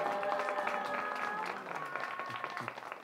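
Church congregation claps in thanks during a Korean Easter service, a short burst of moderate applause with a voice and some tonal sound mixed in beneath the clapping.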